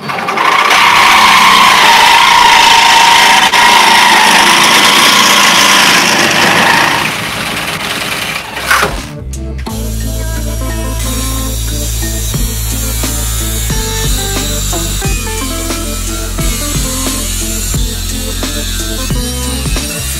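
Power saw cutting through a Jeep body, a loud sustained grinding whine for about seven seconds that stops abruptly, followed by a lower steady engine-like drone.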